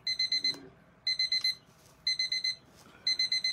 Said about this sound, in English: Is that your beeping?